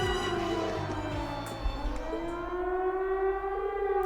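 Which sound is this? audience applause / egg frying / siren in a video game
siren in a video game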